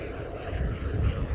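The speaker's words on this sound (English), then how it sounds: "It's a beautiful plane." An airplane passes overhead as a steady, low engine drone of moderate loudness. The broad rumble holds even throughout and no voices are heard.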